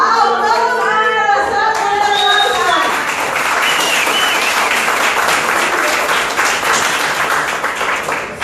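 A voice speaking over a microphone at a company event is quickly overtaken by loud, sustained audience applause, thick continuous clapping that carries on to the end.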